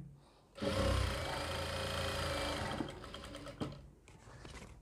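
A sewing machine stitches a white hospital nurse coat, running steadily and fairly loud for about two seconds, then slowing with a few lighter stitch bursts and handling clicks toward the end.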